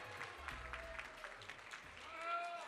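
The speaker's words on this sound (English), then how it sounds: "Let's have another round of applause for them" Audience applause after a dance performance at a celebration, steady clapping from a crowd filling the room with a low musical hum beneath, fading slightly near the end.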